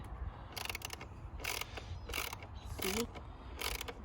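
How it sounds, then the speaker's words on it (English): Ratchet tool turning on the air filter fitting of a 2018 MINI Cooper S F56 while a K&N filter goes in, heard as five short bursts of clicking, fairly quiet and evenly spaced. "This is a ratcheting tool, just so you know."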